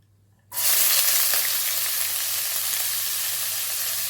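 Onions and green chillies hit hot oil and burst into a loud, close, steady sizzle after a brief quiet moment, the crackling hiss holding strong and even to the end.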